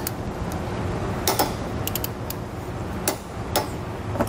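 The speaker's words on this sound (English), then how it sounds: "With all of our hardware snugged down, we can come back and torque it down." Ratcheting wrench torquing down the bolts of a Curt trailer hitch on a 2019 Audi A3, with several sharp clicks of the pawl in bursts over a steady background hum, close by.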